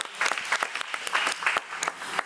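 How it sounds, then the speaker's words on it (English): A modest audience at a school board committee meeting applauds, with uneven bursts of clapping, some sharp individual claps standing out, and the sound rising and dipping at moderate loudness. "So let's give them a round of applause."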